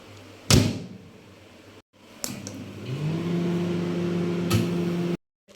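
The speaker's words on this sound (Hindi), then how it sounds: "अब ज़रा हम इसको माइक्रोवेव में रख देते हैं 40-30 सेकेंड्स के लिए।" A microwave oven heating a bowl of cornflakes: a door thump and the click of buttons, then a steady low electrical hum with a faint whir that runs for a few seconds before a sharp stop, heard up close with no talking.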